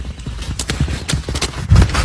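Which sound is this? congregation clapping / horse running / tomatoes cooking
horse running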